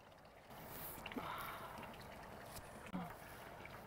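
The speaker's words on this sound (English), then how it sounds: "You can hear the river." A river in the Pyrenees beside an old mountain house makes a faint, steady rushing wash in the background, broken by a few small clicks and knocks nearby.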